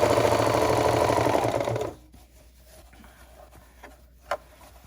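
A sewing machine runs a roll hem around a fabric corner while its blade trims the seam allowance, a fast loud whirring for about two seconds before stopping abruptly, followed by faint handling and one small click.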